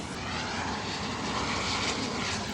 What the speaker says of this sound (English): I'm tired of these planes flying over my house.